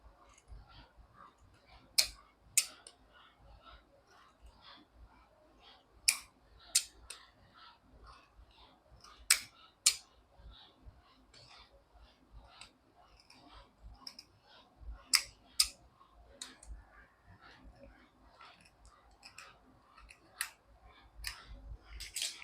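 Scissors snip through marked fabric for a tassel at close range, a steady series of crisp, separate cuts spaced a second or so apart, each a short bright click over a quiet background.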